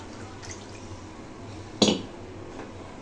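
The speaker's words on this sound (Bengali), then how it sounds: "এর মধ্যে একটু জল মিশিয়ে দেবো।" Water splashes briefly into a thick paste of onion, green chili and garlic in a kitchen bowl, a single short pour near the close mic over a quiet room hum.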